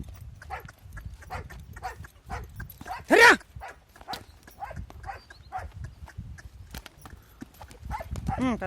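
A horse dancing with bells tied around its ankles, giving rhythmic clip-clop steps and jingling hits under a noisy outdoor crowd, with voices talking and a dog barking nearby.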